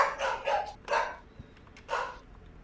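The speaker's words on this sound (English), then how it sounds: "My dogs are freaking out for no reason." Several dogs in a house bark excitedly in quick, close bursts, a rapid cluster and then a couple of separate barks. The barking is fairly loud and near, with no voices over it.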